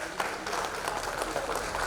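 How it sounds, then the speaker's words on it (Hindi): Applause welcoming industrialists at an exhibition inauguration, a continuous wash of many hands clapping at moderate loudness, steady throughout with no clear voices. "इन सभी उद्योगपतियों का एक बार जोरदार तालियों से आप एक बार स्वागत कीजिए"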